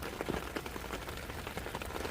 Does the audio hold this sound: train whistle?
no